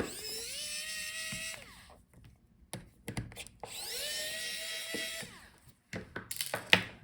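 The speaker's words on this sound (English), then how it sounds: "So follow the cable and unscrew the opposite speaker." Small electric screwdriver backing out the speaker screws inside an HP Envy x360 13m laptop, two separate whirring bursts that rise and hold a steady pitch, close and fairly quiet, with small clicks and handling noise between them.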